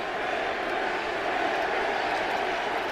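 Football stadium crowd at a Jaguars–Titans game, a dense sustained roar of many voices cheering in the distance, steady throughout without a break.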